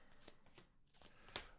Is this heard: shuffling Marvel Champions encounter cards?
yes